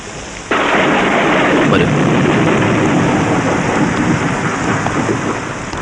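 Heavy rain pours down in a dense, steady roar that starts abruptly and continues loud and unbroken throughout.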